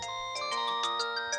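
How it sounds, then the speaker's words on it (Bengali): A cartoon phone ringing with a bright, repeating electronic ringtone, several short tonal bursts in quick succession, clear and close with no voices over it. "বল্টুর ফোন, আবার কি হলো কে জানে।"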